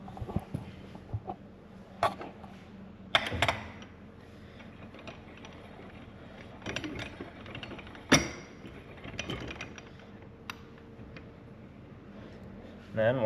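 A compressor tool squeezing the clutch spring of a Crawler 226 clutch kit on a P-drive primary: irregular ratcheting clicks and metallic clanks in several short bursts, close, with someone talking between them.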